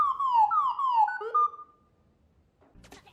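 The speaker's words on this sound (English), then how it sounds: "Every 20 seconds it plays a unique sequence of astromech beeps and chirps." An R2-D2 astromech desk companion lets out a fast run of falling electronic chirps and whistles, then a lower warbling beep, followed by a short faint rattle near the end.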